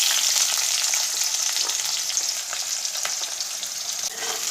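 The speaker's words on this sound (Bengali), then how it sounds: "এরপর এই তেলের মধ্যে আমি পেঁয়াজ কুচিটা দিয়ে দেবো।" Chopped onion dropped into a little hot oil for home-made chilli chicken, crackling and sizzling steadily up close, strongest at first then settling slightly, with no talking.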